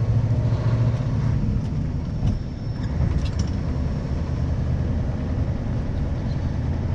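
Inside a moving car, steady low road rumble and engine drone fill the cabin evenly, with faint rattles and no talking.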